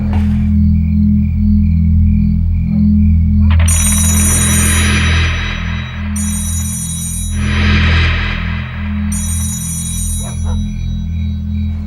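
A landline telephone rings repeatedly in long electronic bursts over a loud, steady low hum, with several rings spaced a couple of seconds apart.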